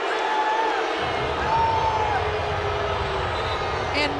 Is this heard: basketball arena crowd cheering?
yes